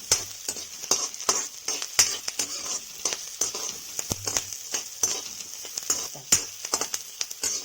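Onions frying until reddish-brown in a pan for masala dondakaaya (ivy gourd curry), a steady crackling sizzle with repeated scraping stirs, close and without talk.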